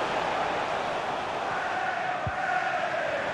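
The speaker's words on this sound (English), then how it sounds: "Ronaldo, being egged on by the crowd." Simulated stadium crowd in the FIFA 23 football video game, a steady broad roar of massed supporters with a brief thud partway through, no voices standing out.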